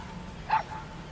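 A single short dog yelp from a kicked dog in Metal Gear Solid V, one sharp cry that fades quickly against quiet game ambience.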